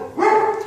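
A single short dog bark or yelp rings out at an animal shelter housed in an old military complex, close and fairly loud.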